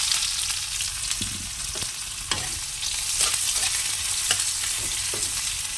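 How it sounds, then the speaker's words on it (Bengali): Dried red chillies, cumin seeds and onion fry in hot oil in a pan, giving a steady close sizzle broken by scattered clicks and scrapes of stirring, with no talk over it. "তেলটা গরম হয়ে গেছে দিয়ে দেবো দুটো শুকনো লঙ্কা একটুখানি জিরে দিয়ে দিই"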